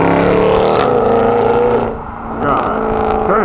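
A Mercedes C63 roars past up close as it leaves the TRAX event at Silverstone, its engine loud and revving hard, dipping briefly between gears before surging again.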